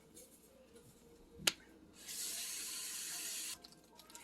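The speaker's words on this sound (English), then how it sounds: "Wash that in the sink." Tap water runs steadily into a kitchen sink as leeks are washed, a quiet gush lasting about a second and a half, preceded by a single sharp click.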